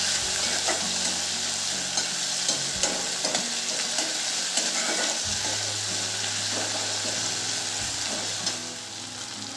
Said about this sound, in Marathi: टोमॅटो पण मऊ होईल तोपर्यंत आपण परतवून घेऊ.